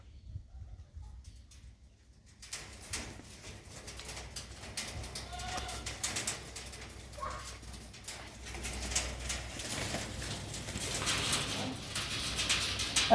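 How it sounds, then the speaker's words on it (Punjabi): A red-eyed Cheena pigeon coos faintly and intermittently among other birds, set against a steady bed of broadband background noise that slowly grows louder. "ਲਾਲ ਚੀਨਾ ਕਬੂਤਰ ਆ ਜਿਵੇਂ ਪਿਓਰ ਪੁਰਾਣੇ ਧੰਨੇ ਵਾਲੇ ਕਬੂਤਰ ਆਉਂਦੇ ਆ ਸੋਹਣਾ ਕਬੂਤਰ ਆ"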